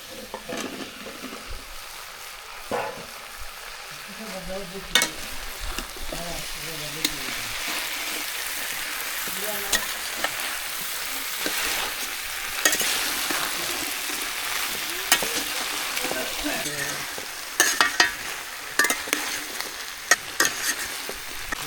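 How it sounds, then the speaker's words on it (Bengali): Okra frying with boiled potatoes in a village kitchen, a steady close hiss of sizzling oil broken by scraping stirs and clanks of the utensil against the pan, with a voice speaking briefly underneath. "এখন এই ভেন্ডিগুলো দিয়ে কষাই নেব"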